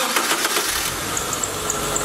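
A Subaru with a flashing check engine light starts up, the engine catching and settling into a loud, rough idle with a faint ticking over the running noise.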